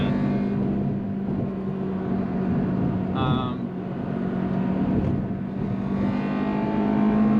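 An Acura RSX Type S with its K20Z1 engine pulls hard under acceleration, a steady loud engine roar building through the VTEC range, with a brief whine partway through and a voice faintly present under the noise.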